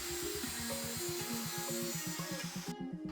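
Close, loud power saw cutting plywood sheets to length, a rapid chattering buzz with a steady rhythm throughout and a sharp drop in noise right at the end as the cut finishes.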